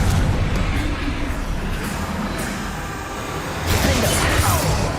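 Confringo explosion spells in the game Hogwarts Legacy boom amid a continuous loud, rumbling roar, with a heavier blast swelling near the end.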